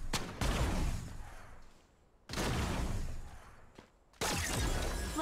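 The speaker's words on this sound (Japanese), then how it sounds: "銃声よ、気を引き締めて。" Three heavy gunshot blasts crack out one after another, each a sharp, loud report trailing off into a dense, noisy decay, with short gaps between them.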